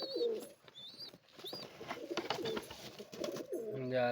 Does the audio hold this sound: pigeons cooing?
yes